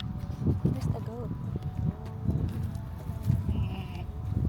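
A goat on a sunflower farm in Caledon, Ontario bleats in short, wavering calls, with people's voices talking nearby and rustling outdoor background noise.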